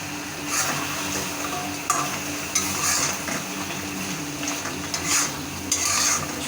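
Chicken curry masala is stirred and sautéed in a pan with country chicken and potatoes, a constant close sizzle under repeated scraping strokes of the spoon and occasional light metallic clinks.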